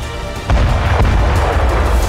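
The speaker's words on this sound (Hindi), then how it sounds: "बम गिरते ही जोरदार धमाका होता है और टैंक खाक हो जाता है।" A drone-dropped bomb strikes a tank in Gaza's narrow streets, detonating with a sudden loud, deep boom that then rumbles on heavily without any voices.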